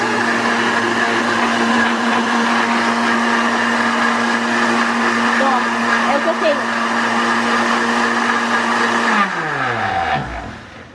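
A blender whirs loudly and steadily while blending a smoothie, then winds down and stops near the end, with people talking faintly.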